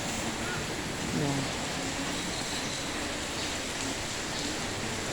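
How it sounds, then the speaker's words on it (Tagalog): Heavy rain falls in a steady, dense wash of broadband noise that stays constant throughout, with brief faint tonal sounds in the background and a voice faintly under the downpour. "Lakas ng ulan."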